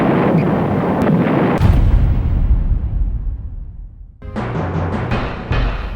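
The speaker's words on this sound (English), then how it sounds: "In North Africa, in Libya, heavy artillery fights take place around Tobruk and Sollum." Heavy artillery fire booms in repeated loud blasts, each rolling off into a long rumbling decay before another salvo of sharp reports breaks in.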